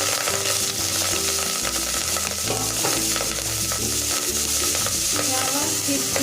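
Rice is tipped into a pot and stirred for zarda, the sweet Indian wedding rice dish, giving continuous loud scraping and sizzling with a rhythmic undertone and no voices.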